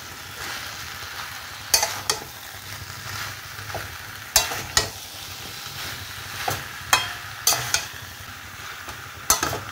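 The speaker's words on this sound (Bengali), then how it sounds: "দেখো কষানোটা কেমন হচ্ছে, দেখেই লোভ লাগছে না?" Vegetables sautéing and being stirred in a pan, with a steady soft sizzle broken by sharp, irregular scrapes and clinks of the spoon against the pan.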